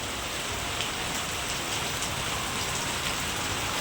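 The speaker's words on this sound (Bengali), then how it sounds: "এখন খালি বৃষ্টিটাই পড়ছে" Steady, dense rainfall pattering on surfaces, an even continuous hiss without pauses or voices.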